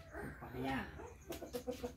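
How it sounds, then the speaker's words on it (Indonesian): Brahma chickens cluck during feeding with bananas and ripe papaya at an ornamental poultry farm, a few short clucks heard close but quiet alongside a brief voice. "Jadi ini sedang memberi makan ayam Brahma, merak, pisang dengan gandul matang"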